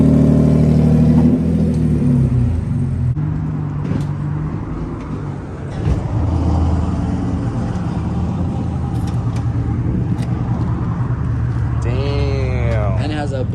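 Loud, deep exhaust note of a BMW E36 M3 with a newly fitted loud exhaust and muffler, rumbling steadily and revving close by for over ten seconds, with a voice talking over it.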